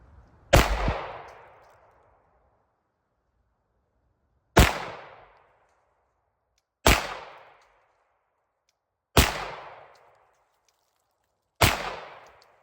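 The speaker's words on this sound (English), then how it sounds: "compared to a more modern pistol like this Glock 19, let's check out some accuracy here" A Glock 19 pistol fires five separate shots, each a sharp, loud crack followed by a short decaying echo, spaced a few seconds apart with silence between them.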